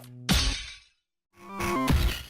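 Glass-shattering sound effects from the Sonic the Hedgehog soundtrack, borrowed from a song, crash out over a music loop. Two bright crashes land about a second apart, with a silent gap between them.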